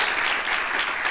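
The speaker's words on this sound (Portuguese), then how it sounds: "Você pode dar uma salva de palmas a Jesus se você crê nisso?" Church congregation applauding together, a dense steady round of clapping that fills the hall throughout without a break.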